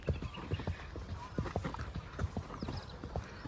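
Horse hooves clip-clopping in a quick, steady rhythm close by on a farm, loud and distinct with occasional louder strikes, while someone talks over them.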